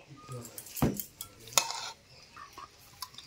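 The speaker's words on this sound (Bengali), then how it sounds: "একটা থালার মধ্যে ঢেলে নিচ্ছি" Cooked oil koi fish curry is tipped from the pan onto a plate, a few sharp metallic clinks and scrapes of utensil on dishware over quiet background.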